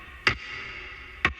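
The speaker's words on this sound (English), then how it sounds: "The next sound I need is an open clap kind of sound" Two sharp, bright clap hits about a second apart, each with a short airy tail, over a faint steady hiss.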